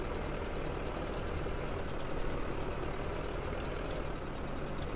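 Engine of a large yard tractor idling in Farming Simulator 17, a steady low rumbling drone that holds constant and fairly loud throughout with no talk.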